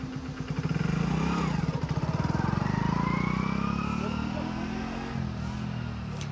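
A motorcycle in neutral starts after a brief pause, then its engine settles into a loud, close, pulsing idle and revs slightly before easing off, with some talk nearby.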